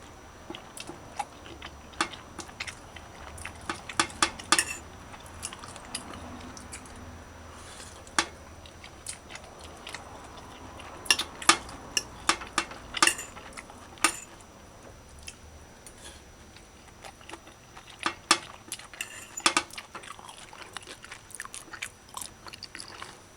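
Someone eating Jamaican conch okra brown stew with cutlery, scattered sharp clinks and taps of utensils on a plate with quiet chewing between them, irregular and close over a hushed background.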